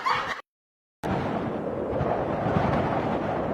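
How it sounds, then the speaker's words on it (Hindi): Strong wind of a dust storm roars across a rooftop as a loud, steady broadband rush that continues after a brief silent gap. "ये तो आंधी आ रहा है, तेज हवा चल रहा है"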